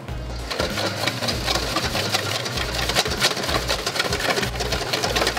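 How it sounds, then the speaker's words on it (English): Egg white being whisked into creme patisserie mix for a chocolate souffle, a steady, busy scraping rattle of the whisk in the bowl that runs continuously and fairly loud, with no talking. "And just whisk it in."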